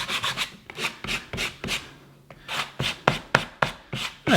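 Sandpaper rubs gently back and forth with the grain along a small wooden part from a character building kit, in close, rhythmic strokes of about a dozen passes with a short pause midway.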